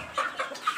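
Free-range village chickens in a coop give short soft clucks, three or four brief calls close by in a quiet setting.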